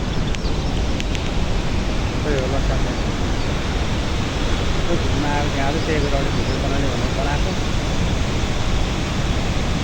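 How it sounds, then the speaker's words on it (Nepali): Water roars at the Marsyangdi hydropower plant, a loud, constant, dense rush that fills the whole scene while someone talks over it. "डेन्जर आवाज आएर छ पानीको"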